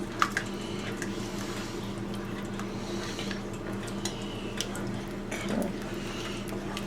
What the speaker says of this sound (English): we're going to add 1 cup of heavy cream, just a little slowly,